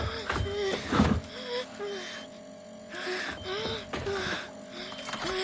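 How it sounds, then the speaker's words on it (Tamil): Labored, wheezing breaths in a Tamil-dubbed horror film, several strained, drawn-out inhales and exhales with whimpering tones, broken by short pauses. "நல்லா இழுத்து மூச்சு விடு. நிதானமா பொறுமையா மூச்சு இழுத்து விடு."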